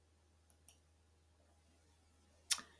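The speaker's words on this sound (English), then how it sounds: "And then I'm just going to click OK." A sharp mouse click rings out near the end, preceded by two fainter clicks, all close and quiet against a low steady hum, with no speech.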